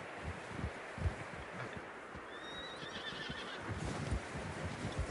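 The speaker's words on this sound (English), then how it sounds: "Horses are struggling." Horses in Red Dead Redemption 2 neigh and whinny while struggling through deep fresh snow on a narrow trail, with a high drawn-out whinny in the middle over steady muffled hoof thuds and trudging, no talk.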